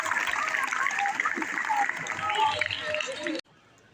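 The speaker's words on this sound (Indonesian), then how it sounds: "Oke, tepuk tangan lagi." Applause from an audience at a Minang cultural stage performance in Indonesia, a dense steady clatter of many hands that runs for over three seconds, then cuts off abruptly into near silence.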